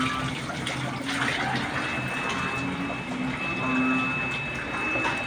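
Floodwater rushing steadily during a flood in Mindanao, a continuous broad wash of water with a faint steady hum underneath, with no talk over it.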